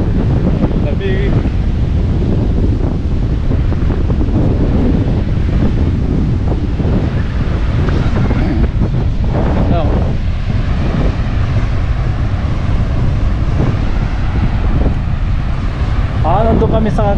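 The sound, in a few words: strong wind on a beach at Torquay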